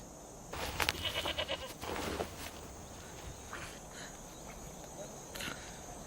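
A sheep bleats several times close by in an outdoor setting in Ethiopia, a run of quavering calls in the first two seconds with fainter ones later over steady background noise.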